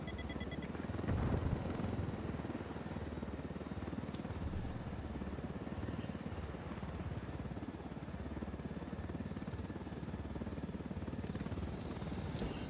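A helicopter in the video game Ghost Recon Wildlands flies with a steady, loud rotor thump and engine whine throughout, close and unbroken.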